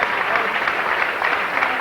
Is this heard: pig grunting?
no